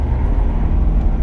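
Tuned Ford F250 pickup launching hard, a loud, close, continuous low engine roar with rough rumbling texture, no talk over it.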